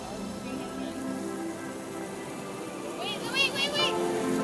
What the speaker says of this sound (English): This rain won't last long.